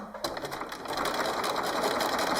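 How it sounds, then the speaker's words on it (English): A sewing machine runs steadily on a long stitch, sewing fabric folded over piping cord along a cushion edge, a close, continuous whirring hum that starts after a brief pause and carries on alone. "Remember you're on a nice long stitch and all you're going to do is sew down"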